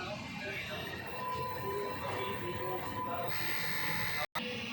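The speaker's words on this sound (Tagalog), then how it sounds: "Ganito naman po i-head clean ng DTF po namin." DTF printer running a print head cleaning cycle, a steady mechanical whir and hum that continues without a break, ending in a brief cutout near the close; a voice talks over the machine.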